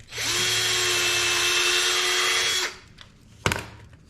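A power drill drives a screw into wood while a kitchenette cabinet is built for a camper van. It gives one loud whir of about two and a half seconds that winds down, followed by a single sharp knock.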